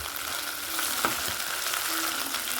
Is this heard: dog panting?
no